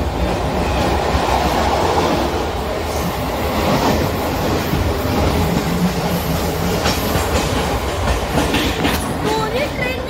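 Dadar-Virar double fast local train running on the Western Railway line near Vasai Road, loud continuous rumble and rhythmic clickety-clack of wheels on rail joints, with faint voices in the carriage.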